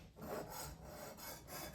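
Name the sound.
knife edge on Work Sharp Precision Sharpener, 320 grit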